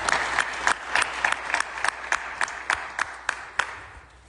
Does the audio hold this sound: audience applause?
yes